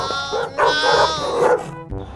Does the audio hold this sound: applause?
no